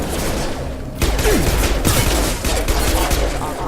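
Gunfire in Mass Effect 2, a loud dense volley of rapid shots crackling almost continuously, with a brief lull before it resumes, close and dominant.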